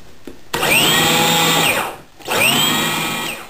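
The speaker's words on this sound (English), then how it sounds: "you just want to combine that with 2 or 3 on-off pulses just until the flour" A food processor whirs in two short on-off pulses through a flour and salt mixture, each burst a loud, close, rising motor whine that cuts off sharply, separated by a brief pause.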